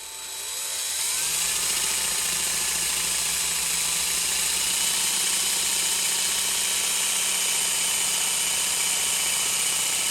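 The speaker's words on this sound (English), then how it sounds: "drill the oil hole" A power drill whines up to speed and holds a steady, high-pitched drone as it bores an oil hole into a metal connecting rod from a Mercedes Unimog 406/U900, loud and close, with no talking.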